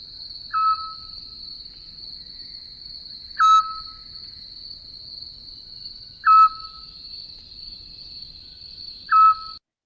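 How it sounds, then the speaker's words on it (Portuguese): A recorded owl call at night: four short hoots spaced about three seconds apart, each clear and moderately loud over a steady high-pitched insect drone and low background hiss. "Vou passar uma vez aqui o mocho."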